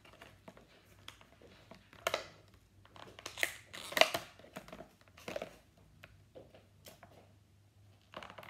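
Scissors cutting at close range, a series of soft irregular snips and crinkly rustles with a couple of louder clips in the middle, faint overall and with no voices.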